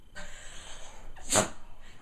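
A single sharp allergy sneeze bursts out midway through a quiet indoor moment, preceded by a short breathy intake.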